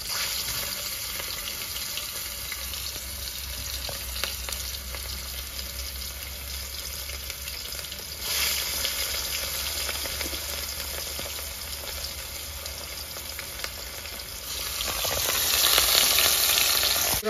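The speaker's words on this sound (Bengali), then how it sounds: "মাছ ভাজা হয়ে গেছে" Hot oil sizzles and crackles steadily as rohu fish fries, a loud continuous hiss that swells briefly in the middle and again near the end.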